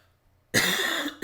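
A single sharp, raspy cough bursts out after a moment of quiet, followed by the start of another.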